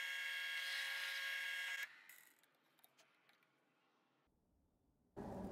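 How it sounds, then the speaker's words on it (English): Drill boring a recessed hole for a bolt head in a piece for an adjustable doweling jig, a high whining bit that runs steadily then cuts off, followed by faint clicks and small handling sounds before a new noise starts. "I'm going to drill a recessed hole to hold the head of the bolt"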